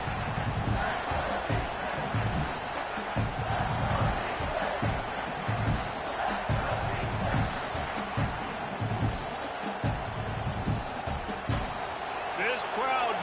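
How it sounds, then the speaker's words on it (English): Loud, steady roar of a large college football stadium crowd, building through a 3rd-and-long play, with a commentator talking over it throughout. "This crowd knows when to bring it."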